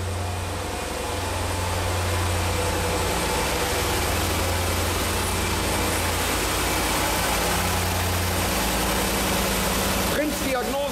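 A 2015 Jeep SRT 6.4-liter V8 idles on its first start after a Prins VSI 2.0 LPG autogas conversion, a loud, close, steady low rumble that runs unbroken, with a brief louder disturbance near the end.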